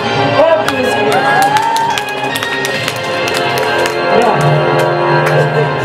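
Clapping from guests at a corporate party contest for a female boss in Vynohradiv, sharp and close, mixed with crowd noise and voices throughout.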